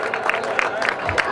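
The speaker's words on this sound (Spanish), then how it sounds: "Aplausos para la foto que quedará para la posteridad" Applause at a mountain bike enduro award ceremony in Teror, brisk crowd clapping mixed with babble and a voice speaking over it, fairly close and lively for about a second.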